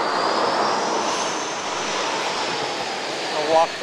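A propeller airplane engine drones steadily at an airport, a sustained roar with a high whine running throughout and a brief louder swell near the end, heard from nearby outdoors.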